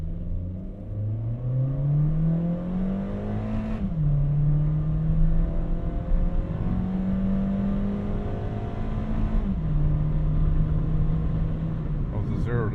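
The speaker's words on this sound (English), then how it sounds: "let's go ahead and give it some acceleration" A 2013 Honda Fit accelerates hard from the driver's seat, its engine note climbing steadily through two gear shifts with brief dips, loud and continuous over road rumble.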